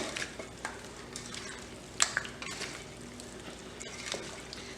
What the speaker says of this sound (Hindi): इस तरह से हम इसको अच्छे से मिक्स करेंगे